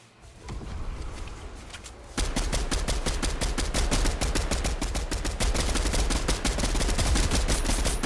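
Rapid gunfire in a squad-based shooter video game, a quieter stretch of shots giving way after two seconds to loud, sustained automatic bursts with dense, evenly spaced cracks filling the rest of the clip.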